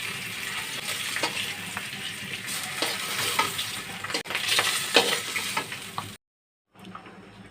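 Hilsa fish pieces fry in a pan of oil, a steady close sizzle with stirring and scraping, broken by a short silent gap near the end.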